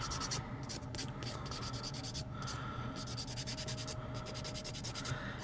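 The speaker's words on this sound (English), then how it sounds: "It took like 2 strokes of the buffer just to get that little last bit of purple off." A nail buffer rubs across fingernails in short rhythmic strokes, a soft, close scratchy swish repeating in quick bursts.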